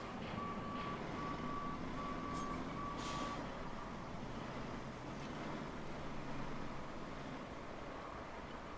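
A truck in the Roadcraft driving game reverses with steady electronic backup beeps over a low rumbling engine and a hiss like air brakes, quiet and continuous with no talk.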